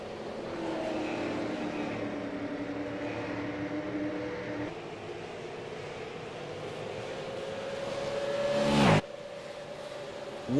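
Super late model stock cars racing on an oval track in a Wisconsin 100 event, a steady roar of several engines with pitch sweeping as cars pass, swelling louder near the end before an abrupt cut.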